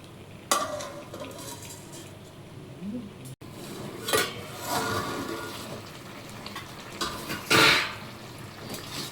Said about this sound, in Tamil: சேர்த்து கலந்து விட்டு ஒரு மூடி போட்டுடலாம்.